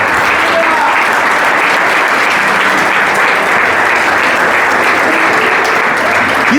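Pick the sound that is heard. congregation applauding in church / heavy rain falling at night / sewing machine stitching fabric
congregation applauding in church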